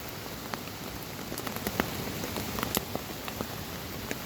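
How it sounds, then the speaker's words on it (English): Rain pattering on a camping tarp in the woods, a soft constant hiss with scattered sharper drops tapping nearby. "wait for this rain to stop"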